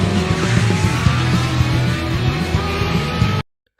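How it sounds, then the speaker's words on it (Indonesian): Car chase from the Japanese film Young GTO, a loud continuous engine roar with revving, squealing tires and skids, steady and close throughout before cutting abruptly to silence. "Ryuji pun langsung tancap gas dan terjadi aksi kejar-kejaran"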